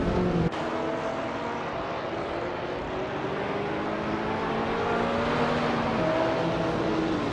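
Engine of a 2007 Toyota Camry racing in a video game, a steady loud drone with slowly rising and falling pitch, joined by a brief click at the start, with no voices.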